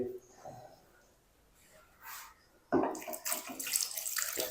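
After a quiet stretch, water suddenly pours in a loud, splashing stream into a pot of potatoes for boiling, continuing steadily to the end.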